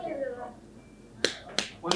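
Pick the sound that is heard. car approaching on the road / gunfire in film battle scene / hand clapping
hand clapping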